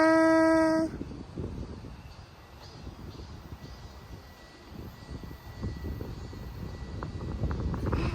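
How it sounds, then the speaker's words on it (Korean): Strong wind blows outdoors as a steady, rough low roar buffeting the microphone. It swells and eases over several seconds after a brief tonal sound at the start. "바람이 엄청 많이 분다"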